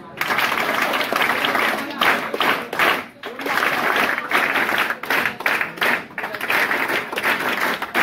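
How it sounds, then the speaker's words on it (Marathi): A large group claps together in a patterned five-beat rhythm at a school farewell ceremony, bursts of clapping broken by short regular pauses, with voices mixed in. "पाहुण्यासाठी टाळ्या देताना 1 2 3 4 5 1 2 3 4 5 1 2 3 या स्टाईल देणार आहोत"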